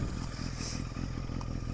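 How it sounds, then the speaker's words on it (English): A Yamaha XJ650 Turbo's air-cooled engine idles steadily close by, a continuous low mechanical rumble with light clattering and no voices. "idle these air-cooled bikes for long, so I'll turn it off."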